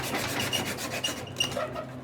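Metal bearing parts deburred by hand, a close, steady raspy rubbing and filing scrape in short repeated strokes, fading slightly toward the end.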